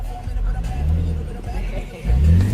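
A construction vehicle engine revs in a driving game, a low rumbling motor that rises toward the end, with people talking over it.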